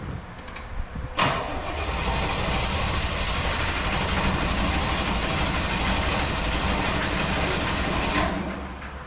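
A 1973 Corvette V8 cranks briefly, then catches and runs steadily with a loud, continuous rough idle close by, settling into a constant drone for several seconds before dropping off near the end.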